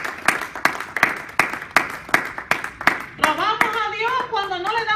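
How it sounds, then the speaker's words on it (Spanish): A church congregation claps together in a steady rhythm, each sharp clap evenly spaced, loud and close. Partway through, a voice rises over the continuing claps. "Denle un aplauso al Señor"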